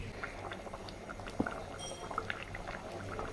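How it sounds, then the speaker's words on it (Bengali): Water added to a pot of cauliflower and chicken curry for broth gurgles and bubbles faintly, with soft scattered pops and light clinks over a low, steady simmer. "আমি ঝোল পানি দিয়ে দিলাম।"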